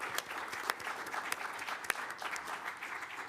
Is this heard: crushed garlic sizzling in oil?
no